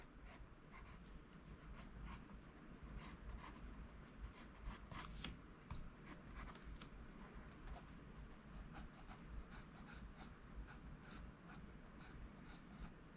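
An HB pencil drawing cartoon birds on paper gives a continuous, close scratching and rubbing with quick stroke-by-stroke rhythm, steady and fairly quiet throughout.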